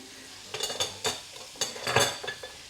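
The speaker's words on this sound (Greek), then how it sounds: "Περιμένουμε να τηγανιστούν" Meatballs fry in a pan for Ikea-style meatballs, a steady sizzle broken by several scraping, clinking stirs of a utensil against the pan, close and fairly loud with no talk.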